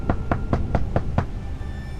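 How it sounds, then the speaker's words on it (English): Six quiet, evenly spaced knocks on a door, a soft rhythmic rapping heard alone against faint background hiss. "there was a knock at the door."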